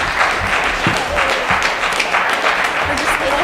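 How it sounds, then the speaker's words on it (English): A crowd at a middle school academic challenge applauds both teams, loud dense clapping throughout, with a voice speaking over it. "A round of applause for both of these really strong teams."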